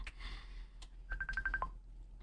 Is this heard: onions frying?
no